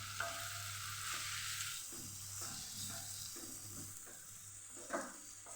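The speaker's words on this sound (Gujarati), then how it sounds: "વચ્ચે વચ્ચે આપણે એકથી બે વાર આપણે એને હલાવતા રહીશું ઉપર નીચે કરતા રહીશું" Shredded cabbage sabzi frying in a pan, a steady close sizzle broken by several rhythmic scraping stirs of a spoon, no voices.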